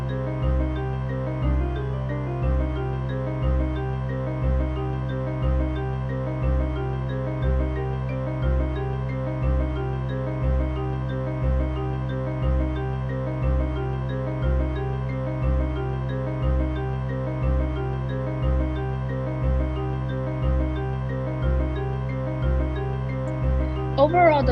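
Layered electronic tones sonifying COVID-19 data pulse in a steady, repeating rhythm with little change in pitch, droning on continuously for the whole stretch.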